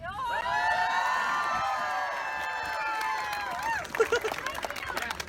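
A street performer's crowd of about 200 people cheers and shouts loudly for a young volunteer taking a bow, a sustained roar of voices that breaks into scattered claps and calls toward the end.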